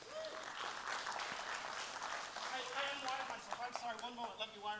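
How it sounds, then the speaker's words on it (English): Audience applause for a performer coming on stage at an event, a moderate burst of clapping heard under and between a speaking voice. "give him a round of applause"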